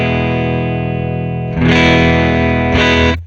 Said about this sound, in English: Here's a clean signal.